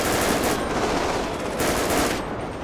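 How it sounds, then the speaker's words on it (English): Rapid bursts of gunfire from a gang shootout in GTA 5 with the LSPDFR police mod, a dense, continuous loud rattle of shots with no talking over it. "He's shooting over there."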